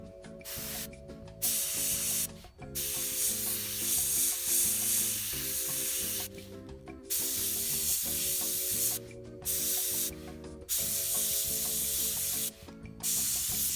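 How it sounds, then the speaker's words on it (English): An airbrush sprays Mission Models paint at a light 10 to 15 psi, giving a steady close hiss in repeated bursts with short pauses between them. "We're spraying at about 10 to 15 psi."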